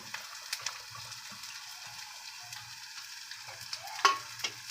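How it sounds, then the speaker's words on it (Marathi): Onion frying in a pan over a high flame makes a faint, even sizzle broken by light scraping taps of a spoon, with no talk. "तो मोठ्या गॅसवरच थोडा फ्राय करून घ्यायचा, जास्त शिजवायचा नाही."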